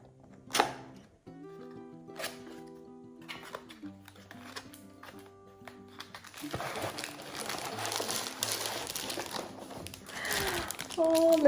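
Packaging of a Philips Advanced KeraShine hair straightener being unboxed, with close crinkling and rustling that grows busier and denser partway through, plus a few sharp handling taps.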